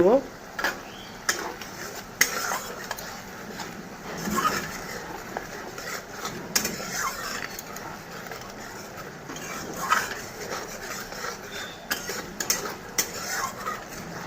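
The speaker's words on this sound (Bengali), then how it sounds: "মশলাটা ভালো করে ভাজা হয়ে গেলে একটু জল দিয়ে দেব তেলটা ভেড়ে যাচ্ছে" Spice masala fries in hot oil, giving a steady close sizzle with scattered clinks and scrapes from stirring that run throughout, with no talking.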